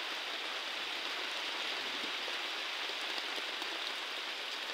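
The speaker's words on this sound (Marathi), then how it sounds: "भरपूर पाऊसच आहे आज" Heavy monsoon rain pouring at Panhala, a dense, steady hiss of countless drops hitting surfaces, even and unbroken throughout, moderately loud with no voices over it.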